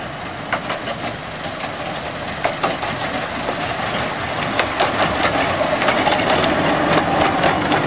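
A Ruislip Lido Railway miniature locomotive, John Rennie, runs along the track with a steady rolling rumble and scattered sharp rail clicks as it shuts off and coasts, close and fairly loud.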